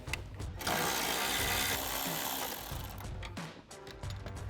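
A shallow 10 mm socket wrench ratchets bolts off the upper grille of a 2024-2026 Mustang GT. Busy, close-up mechanical clicking and rubbing runs steadily, with metallic rattles and no voices.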